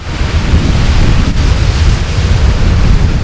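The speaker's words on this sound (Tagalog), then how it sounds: "Hampas ng alon." Steady roar of ocean surf crashing continuously on the Batanes coast, loud and close, with wind buffeting the microphone throughout.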